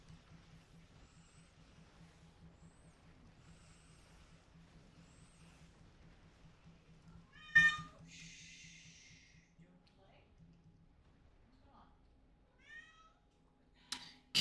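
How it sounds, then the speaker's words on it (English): A pet cat meows and snorts faintly near the microphone during a quiet gaming stream, a brief bright cry standing out over low hum, with occasional small breaths and chirps afterward. "Cat's being really whiny because she thinks I'm not very good at the game."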